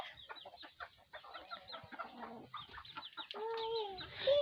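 Several chickens cluck and chatter nearby in quick, overlapping bursts, with a longer drawn-out hen call toward the end.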